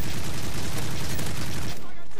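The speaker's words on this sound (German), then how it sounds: "Hier wird rumgeballert." Rapid automatic gunfire in the video game Call of Duty MW3 blasts in a dense, loud burst of shots that ends abruptly, with a voice speaking over it.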